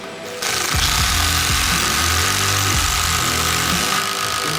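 A Makita LXT cordless drill drives deck screws steadily, its motor whirring loud and close with pitch shifts as each screw seats, alone without talk.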